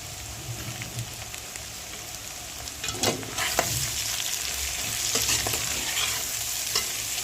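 Chopped onions with salt and coriander sizzle and fry in a pan for Mumbai-style kanda poha, a steady soft crackle with a few spoon stirs and scrapes partway through.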